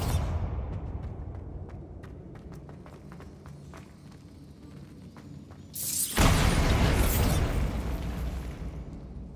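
Bombarda spell explosion in the video game Hogwarts Legacy: sharp ticking and clicks give way to a sudden loud blast that roars and slowly fades, with no talk over it.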